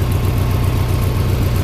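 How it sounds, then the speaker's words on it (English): An engine idles roughly with a continuous low, throbbing rumble, close and fairly loud. It is heard alone, with no talking. "I'm sure the engine will smooth out."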